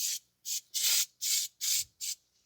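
Brake cleaner sprayed from an aerosol can directly onto an engine surface during a valve cover replacement on a 2014 Chevrolet Sonic 1.8: six short, sharp hissing bursts in quick succession, close up, with no talking.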